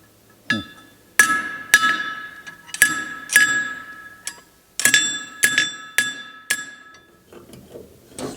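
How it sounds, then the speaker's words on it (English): A hammer strikes a metal gas pedal on an anvil to bend it for a GMC motorhome. About a dozen sharp ringing blows land at an irregular pace, close and distinct, with no talking. "I'm going to take it over to the anvil and just make sure it's got a little bit of a bend."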